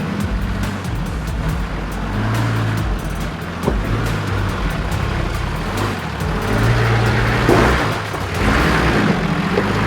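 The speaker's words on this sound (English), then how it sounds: "That's just really good four-wheel driving, low-range fun, rock crawling ruts in vehicles that are well set up for this sort of stuff" A Nissan Patrol four-wheel drive crawls a rocky, rutted track in low range at Bunyip State Park, its engine drone steady and loud throughout, with rumbling and scraping from the terrain.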